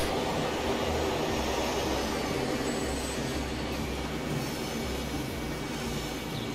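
A TEE express train rolls past in the Transport Fever 2 simulation game, a continuous low rumble and rail drone holding steady throughout with no talking.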